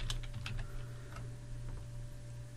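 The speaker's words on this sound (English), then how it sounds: "And for this last table row, I'm going to type" Light clicking of computer keyboard keys while filling in an HTML table, a few quick taps near the start followed by sparser, quieter clicks over a steady low electrical hum.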